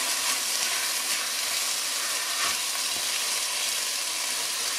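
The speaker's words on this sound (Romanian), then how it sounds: "Și îl lăsăm așa să se călească în jur de 10 minute, maxim 10 minute" Rice sautéing with mushrooms in a frying pan, a steady, even sizzle that holds at a constant level with no talk over it.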